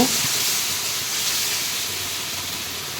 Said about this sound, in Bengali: এবার তেল দিয়ে দিলাম ছাতগুলো দিয়ে দিয়ে একটু ভালো ভেজে নেব